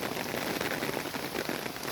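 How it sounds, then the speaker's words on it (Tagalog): Steady rain pattering on a surface, a dense continuous hiss of drops with no voices, fairly close and even in loudness throughout. "Kahit umuulan,"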